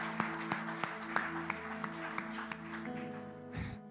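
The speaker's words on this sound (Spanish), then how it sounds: "Dale fuerte el aplauso al Señor" Congregation in a Spanish-language church service clapping in a sparse, roughly rhythmic pattern over sustained music or organ tones, the claps distinct and moderate in level.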